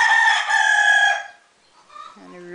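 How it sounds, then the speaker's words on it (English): A rooster crows loudly and close in a goat barn, one long drawn-out call lasting over a second, followed by softer animal sounds and a brief voice. "And the rooster's being very noisy."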